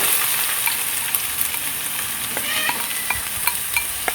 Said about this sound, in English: we're going to soften up our onions